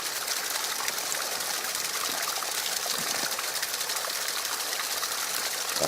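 A hill stream rushes steadily into a farm's water intake pipe, a constant close broadband wash of flowing water with no voices.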